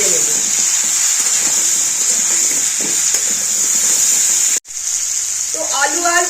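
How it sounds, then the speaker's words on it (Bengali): Jackfruit and potato pieces fry with salt and turmeric in a kadai, giving a close, steady sizzle with light stirring; the sound cuts out briefly midway, then resumes as a voice talks over it. "এবার এই দুটো দিয়েই আমি এবার এঁচোড়টাকে এঁচোড় আর আলুটাকে ভালো মতো ভেজে নেব"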